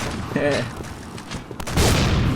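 Rapid gunfire from the online shooter game Point Blank (PB), a burst of shots early on and a denser, louder volley near the end, with voices and game sounds mixed in.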